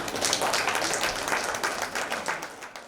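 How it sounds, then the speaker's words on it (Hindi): An audience at a devotional gathering applauds to welcome a speaker, a dense patter of many hands clapping, fairly faint and distant and tapering off at the end. "तालियों से स्वागत कीजिए।"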